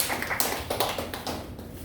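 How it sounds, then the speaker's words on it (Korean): Scattered hand claps from a small church congregation welcoming a new member during a Korean youth service, a thin uneven patter of taps at moderate distance with no voices. "우리 새로운 상민 친구를 위해서 박수 한번 부탁드립니다"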